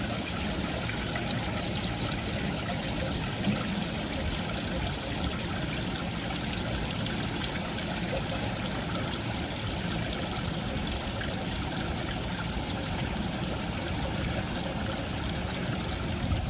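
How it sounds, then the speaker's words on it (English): Water flows steadily in a stream in New York City, a continuous close rushing and trickling wash that stays even throughout with no voices. "So I'll let you guys listen to the water a little bit."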